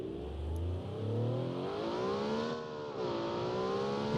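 Original Owl car engine in the BeamNG video game revving steadily, with harmonic tones rising and falling through the gears, loud and close throughout with no talking.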